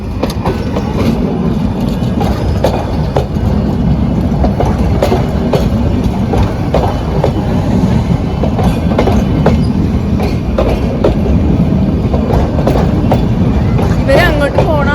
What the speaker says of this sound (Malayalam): ഞങ്ങൾ അങ്ങനെ ട്രെയിൻ കണ്ടു. അതും 2 ട്രെയിനാണ് കണ്ടത്.